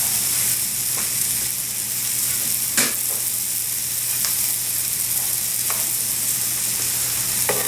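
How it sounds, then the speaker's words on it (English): Butter and regular olive oil sizzle and fry in a hot pan for a cheesesteak, a loud, steady crackling hiss broken by occasional sharper pops and stirring clicks, with no talking. "I'm going to put another piece of butter down with some olive oil."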